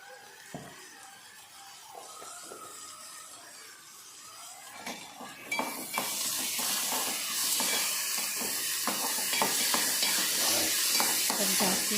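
Chutney ingredients frying and being stirred in a pan for a poori side dish, a soft sizzle that swells louder about halfway through, with scraping stir strokes and faint background noise.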